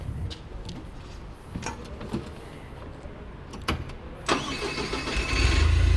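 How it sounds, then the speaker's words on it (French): A Fenwick H35 LPG forklift engine cranks with a starter whine after some clicks and cab rattles, then catches and settles into a steady, close idle rumble. "je vous invite à conduire ces chariots H35 GPL, donc montez avec moi"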